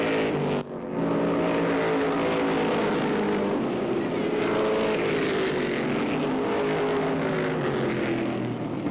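Late-model and Flying Tigers race cars at Airborne Raceway in 1992 crossing the line at the finish. After a brief dip, loud engine roar sweeps in with pitch shifts as the cars pass and accelerate.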